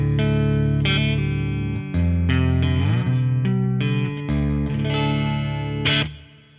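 Electric guitar played through the clean channel of a Marshall Mode Four solid-state amp, ringing sustained chords with a full, bright tone and a slight effect shimmer, loud and alone before decaying at the end.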